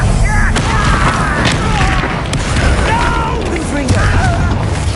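Confringo blasting spells explode in Hogwarts Legacy combat, heavy booms and crashes in a loud, continuous battle mix with voices over the top.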